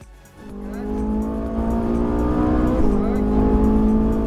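A Ferrari 458 Italia revving hard on a race track, its engine note climbing steadily and loudly in a rising, sustained scream with a brief shift partway through, heard close from on board.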